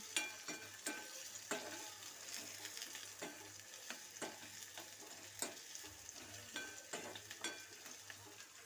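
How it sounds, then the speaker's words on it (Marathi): Onion sautéing in a pan for potato bhaji makes a faint, steady frying hiss, punctuated by regular soft spatula strokes and scrapes every second or so, with a low hum underneath. "आता कांदा इथे आपण थोडा परतायचा आहे गुलाबी होईपर्यंत"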